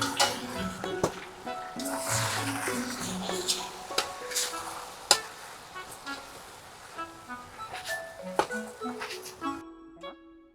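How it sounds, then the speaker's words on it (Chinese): Duck being stir-fried with oyster sauce in a wok, a busy sizzling and clattering of the spatula against metal with sharp scrapes, under a background of music and faint voices. "蚝油也是倒进来， 我们炒一下哈"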